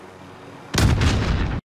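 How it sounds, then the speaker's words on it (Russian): A loud, booming explosion from planted explosives in the game Warzone erupts over a low background hum, rumbling for about a second before cutting off abruptly. "Закладываю взрывчатку."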